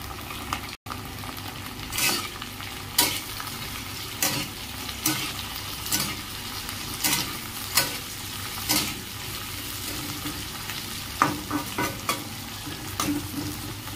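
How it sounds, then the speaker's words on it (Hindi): Tomatoes and green chillies fry in a pan for a home-style fish curry, a steady sizzle broken by repeated scraping stirs every second or so, close and clear with no talk. "एया को पकाई के किछि समय फ्राई करिबा।"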